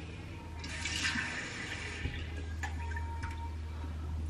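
Cold water poured into a cooking pot while making a thick potato-starch purée at home, a steady close splashing and trickling stream that runs for several seconds with a few small clatters, no talking.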